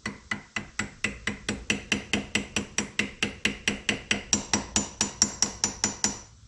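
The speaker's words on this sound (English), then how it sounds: "You're going to hammer in the micro basket into this, the new one." Rapid, evenly spaced metallic hammer taps, close up, about four light strikes per second for several seconds with no talking, lightly tapping a micro basket into a fuel injector until flush.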